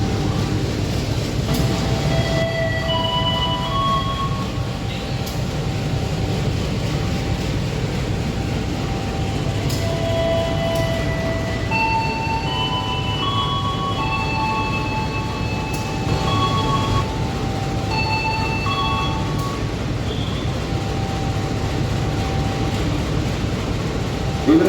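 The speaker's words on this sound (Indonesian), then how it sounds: "perjalanan kereta api Kahuripan masuk stasiun Purwosari di jalur 3 ya" Kahuripan passenger train at Purwosari station on track 3, a steady rumbling roll of railcars with squealing wheel and brake tones scattered throughout, continuous and fairly loud for the whole stretch with no talk.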